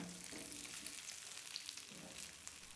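Boiled baby potatoes sauté in a pan with cumin seeds, mustard seeds and curry leaves for a Tamil Nadu style potato roast, giving a quiet, continuous sizzle close by with a few soft crackles.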